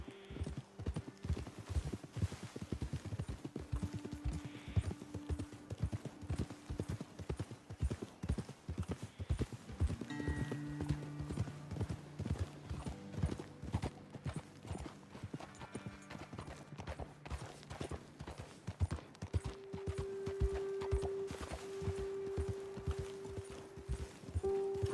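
Horse hooves clip-clop steadily on a trail in Red Dead Redemption 2, a continuous close rhythmic plodding of more than one horse with occasional faint game tones and snorts.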